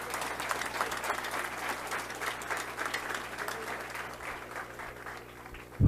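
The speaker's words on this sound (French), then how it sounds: "Demandons un applaudissement encore pour nos nouveaux policiers." Crowd at a police officer graduation ceremony applauds steadily for several seconds, a continuous mass of clapping at moderate distance.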